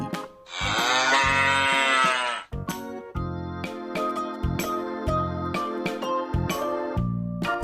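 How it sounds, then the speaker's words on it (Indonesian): A cow lets out one long, loud, close moo, followed by a series of bright jingling, tinkling chimes. "sapi,"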